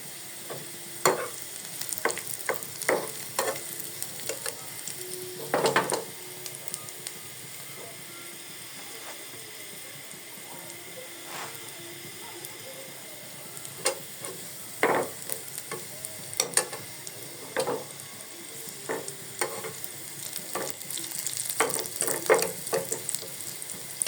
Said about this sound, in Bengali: সামান্য একটু তেল দিয়ে পেঁয়াজটা ভালো করে ব্রাউন কালার করে ভেজে নিতে হবে